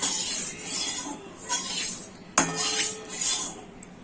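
A metal spatula scrapes and swirls oil around a kadai wok before eggs go in for chow mein, making rasping strokes that rise and fall, with one sharp clank midway and no talking.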